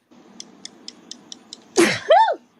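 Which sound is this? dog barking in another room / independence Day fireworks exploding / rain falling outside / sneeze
sneeze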